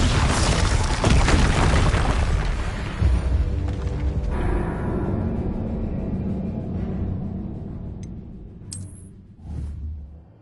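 Confringo blasting curses in a Harry Potter video game boom out in a loud, dense barrage of explosions with whooshing bursts, fading toward the end before a final thump.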